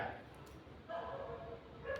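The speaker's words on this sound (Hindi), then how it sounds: "पता नहीं कहाँ से कुत्ते भौंकने" Dogs barking somewhere in the background during a Hindi talk on astrology, a few faint yaps and woofs rising under ongoing speech.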